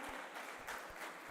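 Applause from a conference audience, a steady wash of many hands clapping at moderate level with no voices standing out.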